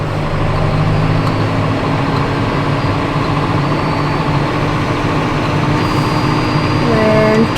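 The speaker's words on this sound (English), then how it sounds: "All right, gonna engage the PTO. Gonna climb my RPMs up to 1800." A farm tractor engine with its PTO engaged and climbing toward 1800 RPM drones steadily and loudly close by, a constant heavy rumble that swells slightly near the end.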